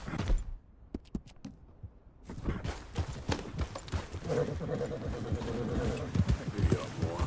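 Horse hooves clip-clop steadily in Red Dead 2, sparse single steps at first, then a faster continuous trot with a faint tonal hum beneath, no talking.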